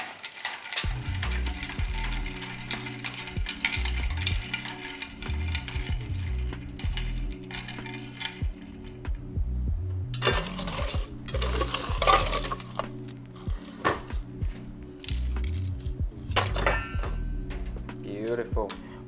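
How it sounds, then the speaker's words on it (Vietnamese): Paloma tequila cocktail with soda being stirred: repeated metallic clinks and scraping of a bar spoon against glass and ice, close and steady, with a brief voice in the background. "Mình sẽ khuấy nó lên nha các bạn."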